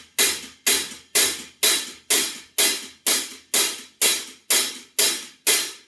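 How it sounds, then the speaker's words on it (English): A hi-hat played as an 8-stroke roll with every second note extended: about a dozen crisp, evenly spaced strokes, each with a sharp attack and a short shimmering decay, heard alone and fairly close. "On the hi-hat, I played an 8-stroke roll, but I extended every second note"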